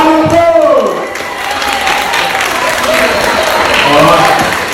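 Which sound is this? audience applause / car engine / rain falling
audience applause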